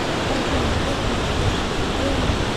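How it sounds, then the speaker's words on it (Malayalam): Water from a dam runs like a stream down a central channel, a steady broadband rush that stays loud and unbroken throughout, with no pauses or changes in level. "ഇവിടെ ഇങ്ങനെ തോട് പോലെ നടുക്കൂടെ ഒഴുകി പോയ വെള്ളം."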